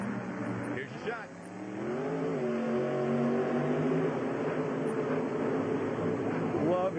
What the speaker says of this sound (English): Love hearing that truck pull onto the track, Ken, whether it's Adam or Dennis driving it